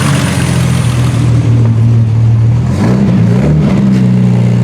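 A 1976 Triumph TR6 engine revved by working the throttle linkage, a loud close engine note that holds steady, then rises and falls in pitch through a couple of short revs, with no talk.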